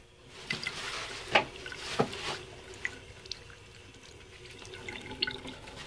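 Water from a faucet at a paint sink runs briefly to dampen a rag, with soft splashing and a few sharp drips over a quiet, steady trickle.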